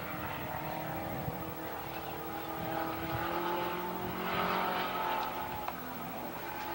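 A race car powered by a 2300cc Mustang engine runs laps at Tonopah Speedway, its engine note rising and falling as it accelerates and passes, with other cars droning in the background.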